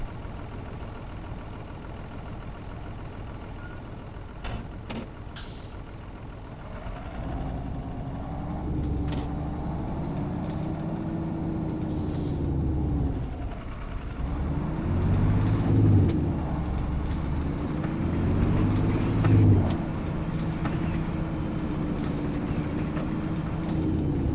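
Idling vehicle engine, started after a whole winter of sitting unused, runs as a steady low rumble for the whole stretch with a slight waver in pitch and a few faint clicks and knocks over it.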